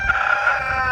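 A single hen's drawn-out, harmonic crowing call, loud and close, lasting about a second on a homestead, with faint clucking texture beneath.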